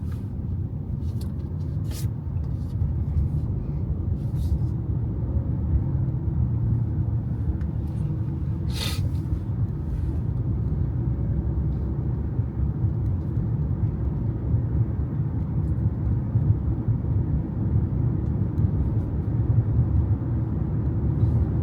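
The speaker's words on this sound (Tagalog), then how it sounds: "Traffic, guys." A constant low rumble of street traffic in the United States with vehicles passing continuously, and a few faint clicks and knocks.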